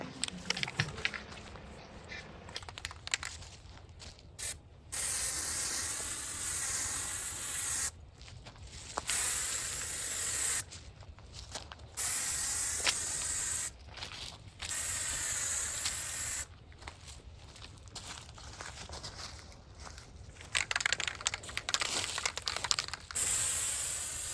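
A can of primer hisses in long steady bursts as it coats a telephone table being restored, with short pauses between passes, close and loud, with no talking.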